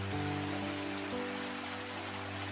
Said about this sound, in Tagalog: Wala na, kusog ng ulan tol.